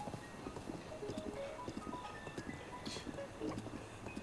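Horse hooves clip-clopping in the video game Breath of the Wild, a quiet, steady trotting patter with soft game music tones in the background.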